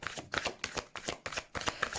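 A deck of tarot cards is riffled and shuffled in quick repeated bursts, close and crisp, with short pauses between each flurry of card slaps.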